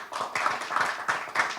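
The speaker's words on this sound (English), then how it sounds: "big round of applause" Applause at a press conference for a pickleball championship, a small group clapping in uneven bursts with distinct hand claps, moderately close and fading between swells.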